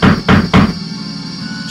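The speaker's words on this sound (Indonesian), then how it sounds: "Suara ketukan pintu." Three firm, loud knocks on a wooden door in quick even succession, close, followed by a quiet room tone.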